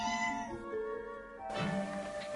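A cat meows close by in a drawn-out, wavering call, then lets out a second, louder yowl with no voices around it.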